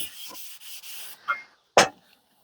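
Abrasive paper rubs down a pitted, scratched AJS motorcycle fork stanchion in short back-and-forth passes. The rasping is quiet and close, followed by a couple of brief knocks.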